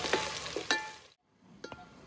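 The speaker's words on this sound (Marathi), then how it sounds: "आता मस्त कांदा आलं लसूण खडा मसाला तळून घेतलं." Onion, ginger, garlic and whole spices fry in a pan for a mutton curry, giving a steady close sizzle with a few sharp spatula scrapes, then a short pause before quieter frying resumes.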